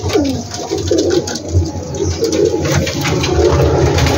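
A large flock of pigeons on a rooftop loft in Gujranwala cooing together, a dense, close, continuous chorus of soft throaty calls with occasional wing flutters.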